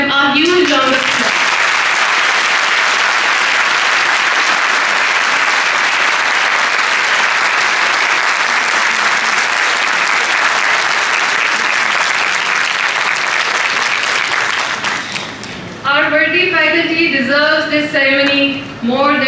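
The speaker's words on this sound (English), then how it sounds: "Please give them a huge round of applause." A large audience at a university convocation claps loudly and steadily for about fifteen seconds, then the applause cuts off and a speaker's voice takes over.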